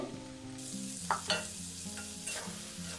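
Cauliflower florets go into a pan of frying spices, a close sizzle with a few sharp spoon-and-pan clatters as they are stirred in.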